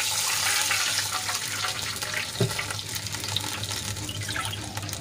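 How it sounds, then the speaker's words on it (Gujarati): Two cups of water are poured into a hot pan, making a continuous rushing, splashing wash with a brief knock partway through. No one speaks. "એ જ કપના માપથી આપણે 2 કપ પાણી એડ કરીશું"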